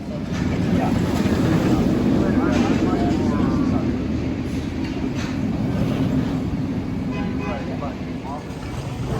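Continuous roar of the Impulse roller coaster at Knoebels amusement park, heavy wheel rumble and rushing wind on the microphone, loud and steady throughout, with voices faintly mixed in.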